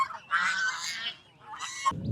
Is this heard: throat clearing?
no